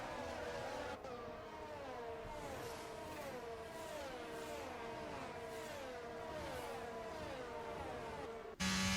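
Formula One race cars accelerate at a safety car restart in an F1 video game, a loud sustained engine whine rising and falling through repeated gear shifts, with no talk.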